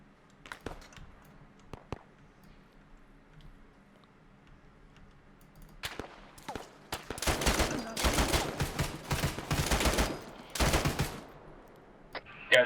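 Arma 3 gunfire in a jungle milsim battle: after scattered faint single shots, a dense stretch of rapid automatic bursts and volleys builds loud and close, with brief gaps and a sharp final crack.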